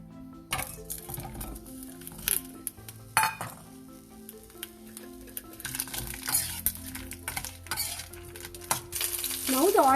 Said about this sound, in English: We'll fry these mirchis.